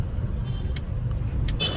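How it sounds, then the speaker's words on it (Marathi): Heavy road traffic with cars passing, a steady low engine rumble and road noise, fairly close, with brief whooshes of vehicles going by. "आज खूप ट्रॉफिक आहे"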